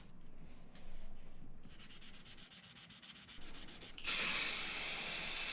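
Cured primer being sanded by hand with 320 grit sandpaper, a soft rhythmic scratching of quick strokes that turns into a louder, continuous hiss toward the end, with no voices.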